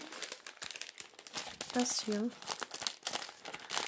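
A plastic bag crinkles and rustles in bursts as items are packed into it for a swap parcel, with people talking over much of it.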